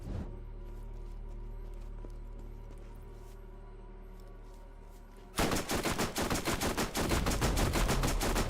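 Rapid automatic weapon fire in Borderlands, a dense, loud stream of shots kicking in abruptly after a steady droning lull, close and sustained to the end with no talk.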